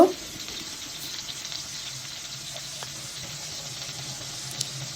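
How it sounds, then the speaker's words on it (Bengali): Pieces of hilsa fish coated with turmeric and salt fry in hot oil in a kadai, giving a steady, soft sizzle close by with no talking. "তেলটা গরম হইলে মাছের টুকরাগুলো কিন্তু আমি এখন ভেজে নিব"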